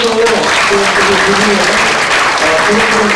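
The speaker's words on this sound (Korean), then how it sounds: "여러분 박수로 주시면" Audience at a youth talk concert claps steadily and loudly, a dense continuous burst of applause filling the hall, with a low hum of music or voices underneath.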